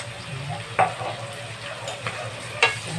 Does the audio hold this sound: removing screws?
no